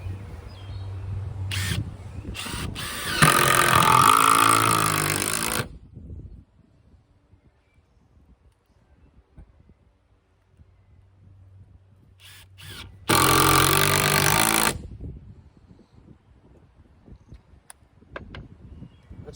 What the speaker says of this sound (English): So let's drive some fasteners in.